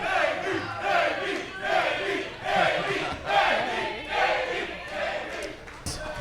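A live crowd at the Galley Wars military cooking competition during LA Fleet Week 2025 cheers and shouts in rolling, rhythmic waves, loud and continuous, with voices mixed into the din.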